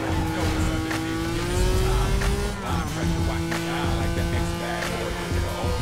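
In the racing game Need for Speed Most Wanted, a Renault Clio's engine revs hard and continuously, its pitch climbing and dropping through gear changes, loud and close under faint talk.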